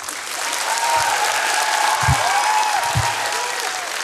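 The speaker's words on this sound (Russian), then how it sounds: "И, пожалуй, я под ваши аплодисменты начну." A stand-up comedy club audience applauds a comedian at the start of his monologue, with dense, steady clapping that stays even for several seconds and a few low thumps underneath.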